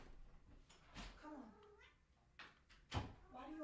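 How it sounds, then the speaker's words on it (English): A cat meows at a door to be let in, giving several short, fairly close cries mixed with a person speaking, and a brief knock or bump near the end. "Let me let this cat in."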